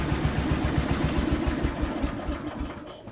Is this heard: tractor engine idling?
yes